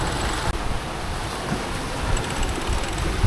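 A sailboat with its genoa set gathers speed through open water, a steady rushing wash of waves along the hull mixed with heavy wind buffeting the microphone, loud and continuous with no talking.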